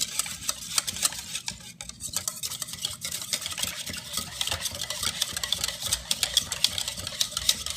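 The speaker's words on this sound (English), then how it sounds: "Use that vanilla and mix it together." A spoon stirring chocolate pudding mixture with vanilla in a pot, producing a continuous scraping and swishing with small clinks against the sides, under a low steady hum.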